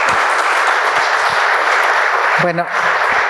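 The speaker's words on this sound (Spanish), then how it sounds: "Aplauso para ti." Audience applause at a Spanish-language university book launch, a steady broadband wash of clapping lasting throughout, with a man's brief spoken word cutting in near the end.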